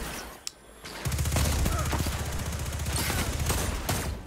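Rapid, loud bursts of fully automatic fire from the Whip Scorpion 3MG submachine gun in the shooter game Destiny 2, a dense rattle that starts after a brief single shot and continues almost unbroken.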